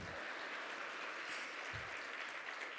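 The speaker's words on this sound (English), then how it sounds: "we can clap it up for Melvin" Audience at an awards luncheon claps for a speaker's husband, a soft, distant, steady patter of many hands that stays even throughout with no voices on top.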